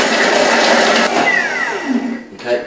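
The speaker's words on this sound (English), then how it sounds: "I'm just going to blitz these up" A blender whirs loudly for a couple of seconds blitzing raspberries, its pitch shifting as the contents churn, then winds down and stops.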